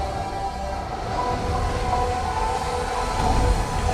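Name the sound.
subway train in a movie trailer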